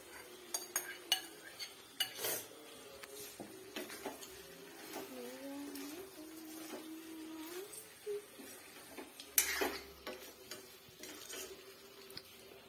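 A spoon clinks and scrapes softly against a pan while fried jackfruit is stirred into a curry. The taps are quiet and irregular, with a faint steady hum in the background.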